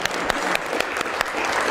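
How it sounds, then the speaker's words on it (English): Applause from an audience welcoming a volunteer onto the stage at a talk, a steady wash of clapping with a few sharper claps standing out, fairly close and continuous throughout. "Big round of applause for my first victim."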